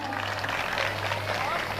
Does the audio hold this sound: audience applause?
yes